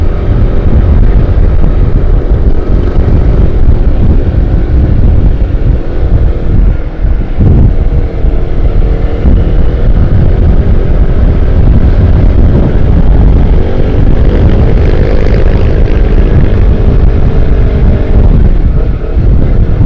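A Honda CBR 250RR motorcycle exhaust drones steadily while riding, loud and continuous, largely buried under heavy wind buffeting on the microphone, with no talk.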